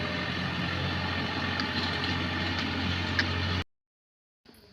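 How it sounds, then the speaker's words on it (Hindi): A tractor works a farm field being ploughed before sowing, its engine a steady low drone close by, running continuously before an abrupt cut to silence and a faint return. "तो पूरे खेत में लग गया है ट्रैक्टर वगैरह"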